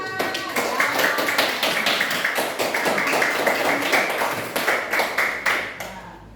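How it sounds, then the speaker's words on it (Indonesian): Classroom clapping by students during a school lesson, brisk rhythmic group claps in quick bursts, close and fairly loud, with a few voices mixed in. "terima kasih tepuk tangan untuk kita semua."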